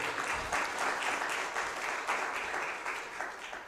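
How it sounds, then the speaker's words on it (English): An audience at a film festival event claps for a guest speaker, continuous close-packed applause that stays steady and moderately loud before easing slightly at the end. "A round of applause for our guest speaker."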